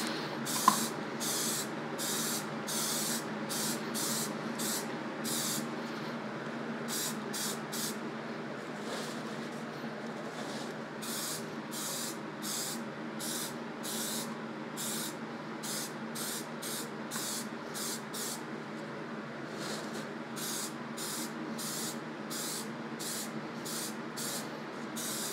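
Rubberized coating sprayed from a can onto face shells in light coats, a steady close hiss running throughout with rhythmic bursts and brief pauses between passes.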